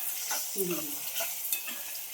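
Chopped tomato goes into onion frying in a pan for Dhaba-style shev bhaji, a close sizzle with stirring scrapes and a brief squeaky utensil scrape partway through.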